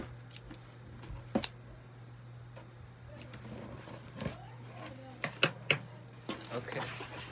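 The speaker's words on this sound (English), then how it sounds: "Got scissors." Scissors snip and crunch through packaging in a handful of sharp, close cuts, scattered irregularly over a low steady hum.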